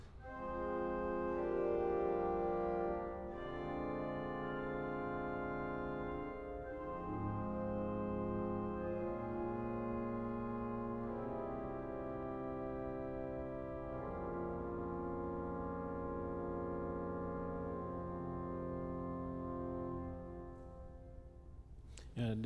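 A 2021 Noack pipe organ in a cathedral plays its slotted gamba string stops, a bright, acidic, reedy sustained chord texture that moves through changing harmonies at steady volume, with a brief reverberant cutoff at the end.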